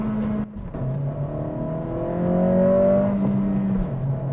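A 2023 Acura Integra A-Spec with a manual transmission accelerates, its engine note rising in pitch and swelling in loudness, steady and close from inside the car, with no talking.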